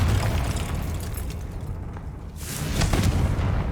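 A Confringo fire spell blasting in Hogwarts Legacy, heavy booming impacts with rumbling debris, a dip in intensity then a second loud swell of explosive noise.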